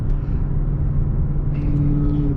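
A Dodge Hellcat Charger in sport mode drones with a loud, steady low engine rumble heard from inside the cabin, a slight shift in tone near the end marking a hard gear change.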